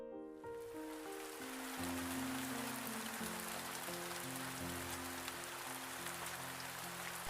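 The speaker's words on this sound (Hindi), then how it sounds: "और दिल्ली में झमाझम बारिश हो रही थी।" Heavy monsoon rain pours down in Delhi as a steady, dense hiss that fills the background beneath soft, sustained musical tones.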